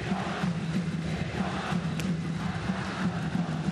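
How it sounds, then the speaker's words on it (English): Large ballpark crowd at a World Baseball Classic game between the Netherlands and Chinese Taipei, a steady roar of cheering and voices as the batter steps up, sustained and fairly distant throughout. "The crowd came to its feet when he strode to the plate to make this noise."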